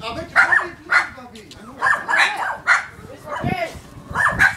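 A pet dog barks in repeated sharp bursts at close range, loud and irregular, while a person talks to a child indoors during a birthday gathering.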